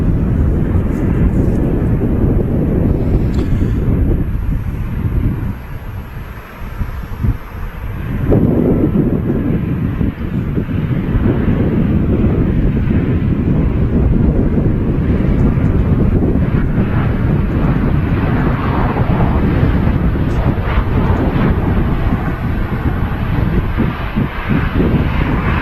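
A Ryanair airliner passes at Manchester Airport as a loud, broad low roar that holds steady throughout, heavily mixed with wind buffeting on the microphone.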